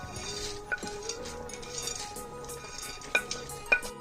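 Cardamom pods and roasted dry fruits are added to a pot of sheer kurma, a sweet vermicelli milk dish, followed by gentle stirring, with soft clinks and spoon taps against the pot over a low steady background.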